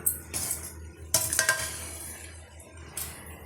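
Banana stem stir-fry with green chilies being stirred in a pan, giving a few distinct metallic scrapes and clinks of a utensil against cookware in short bursts, close and fairly quiet, with no talking.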